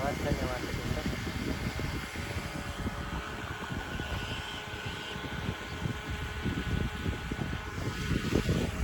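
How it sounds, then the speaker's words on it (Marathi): An electric water pump motor runs on a farm plot planted with cucumbers, giving a steady, unbroken drone with airy wind-like noise on top and faint voices in the background. "आता मोटर बंद करायची आहे आपल्याला."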